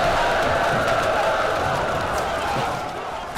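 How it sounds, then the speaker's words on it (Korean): Massed battle shouts of soldiers surrounding a house at night in a Three Kingdoms-era setting, heard as a steady, loud roar of many voices that holds evenly throughout and eases slightly at the end. "군사들의 함성 소리가 들려왔다."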